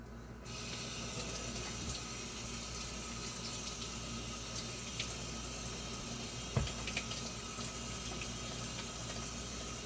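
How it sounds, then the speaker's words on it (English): A kitchen tap runs steadily as hands are rinsed while meatloaf is being prepared, a constant close hiss of water with one faint splash partway through and no talking. "Let me rinse my hands so I could show you what I'm going to do with the oil."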